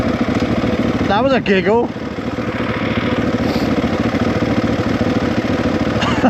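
Suzuki DRZ400E trail motorcycle idling out on the trails, a steady close engine putter running the whole time while someone speaks briefly over it.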